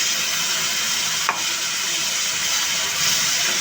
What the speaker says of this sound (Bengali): এবার এইখানে দিয়ে দেব রসুন এবং জিরা বাটা দিয়ে সুন্দর করে আবার মশলাটাকে একটু কষাবো